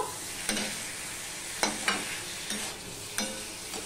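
Pointed gourd (potol) frying with turmeric in a pan, a quiet steady sizzle punctuated by several sharp scraping stirs of a spatula at irregular intervals.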